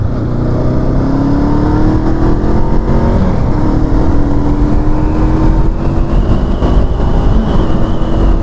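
A 2023 Honda CL500 motorcycle engine revs up with rising pitch, easing and climbing again as it accelerates; loud, close and steady throughout.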